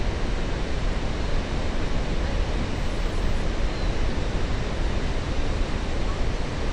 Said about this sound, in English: That's a lot of water flowing over at any given moment.